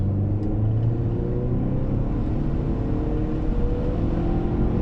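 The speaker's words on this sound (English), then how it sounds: "let's quickly just go into third gear, foot to the floor" A car engine held at wide open throttle in third gear, pulled to about 7,000 RPM, gives a loud, steady, continuous roar with a deep rumble throughout.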